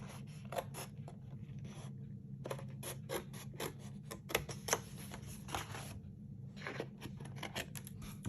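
Scissors snip through a paper candy cane box, a quick series of crisp, close cuts with brief pauses between bursts, alone without talk.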